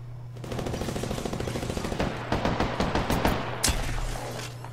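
Rapid shotgun and automatic gunfire in the battle royale game Apex Legends, a dense run of loud overlapping shots with a sharper burst near the end, steady background hum throughout.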